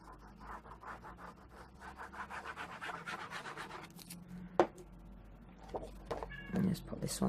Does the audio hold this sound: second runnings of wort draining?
no